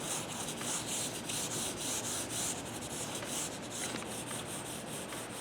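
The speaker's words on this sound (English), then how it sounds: "Pushing and pulling through the length of the Vine charcoal." Vine charcoal drags across paper in long push-and-pull strokes, a close, steady scratchy rubbing that repeats rhythmically with no voices.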